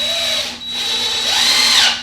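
Power drill driving self-countersinking screws into a wooden kitchen island under construction: a steady, loud whirring drone running for about two seconds with a brief dip in the middle, no talk.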